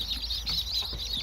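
A hen in a backyard coop where chicks have hatched gives soft, brief clucks, heard close against a constant high chirping background.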